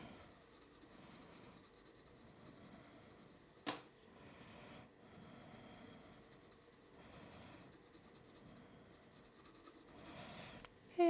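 Colored pencil scratches across paper in repeated close, soft strokes, laying down a base layer, with brief pauses between passes and no talk.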